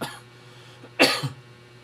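A single sharp cough close to the mic, followed by a smaller throaty catch, against a quiet hum.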